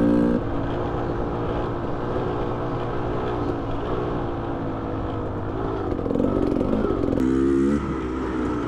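A Beta Xtrainer dirt bike's engine pulls steadily in third gear, a smooth low-pitched drone that swells slightly near the end, heard from close by without speech.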